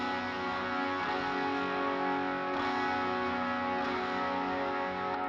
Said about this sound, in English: It's got a lot of reverb on it.